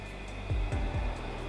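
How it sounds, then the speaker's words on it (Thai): A Mitsubishi Heavy Duty 9000 BTU air conditioner with a replaced control board runs its fan at the lowest speed, a steady close broadband whoosh with a few faint beeps or clicks. "ตอนนี้ เราปรับ พัดลมอยู่ที่ ความเร็วโลนะครับ"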